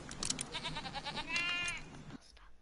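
Sheep Creep enemy in the Skylanders video game letting out a wavering sheep bleat, preceded by short percussive game effects and cut off abruptly near the end.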